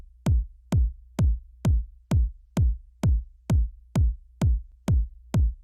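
Electronic tech house kick drum hitting alone in a steady four-on-the-floor pattern, about twelve punchy, evenly spaced thumps with short decays over a low sustained bass hum.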